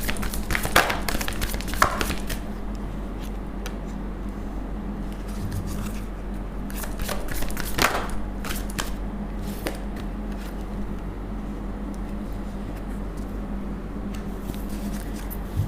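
Tarot cards riffled and drawn from a deck, producing soft crisp flicks and papery slaps in short bursts near the start and middle, then quieter handling under a steady low background hum.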